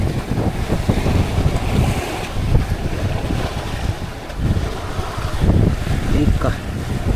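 Big waves and strong wind batter a tuna fishing boat on the Pacific before dawn, with heavy, surging water and gusts buffeting the microphone loudly throughout while someone speaks over it.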